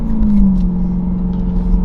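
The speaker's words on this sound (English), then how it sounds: "I might need you to rev it just real quick." A 2023 Dodge Durango Hellcat with a muffler delete sits close by, its engine holding a loud, steady low rumble and drone rather than a sharp rev climb.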